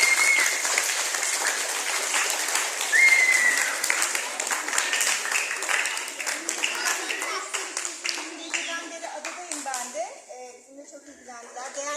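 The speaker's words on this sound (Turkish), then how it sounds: "Savaş Muratoğlu'na bir alkış almak istiyorum kendisine" A room of people applauds a district education director, a long run of dense clapping that thins and fades toward the end while voices, including a child's, mingle faintly.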